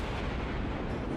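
Warship guns firing in World of Warships on the St. Louis, a dense, continuous rumble of heavy booming gunfire filling the whole moment at steady loudness, with no voices.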